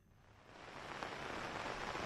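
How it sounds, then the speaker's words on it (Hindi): Heavy rain falling in Dehradun, a steady broadband hiss of downpour that swells slightly louder over the short stretch, with no voices. "आज सुबह से ही तेज बारिश यहाँ पर है।"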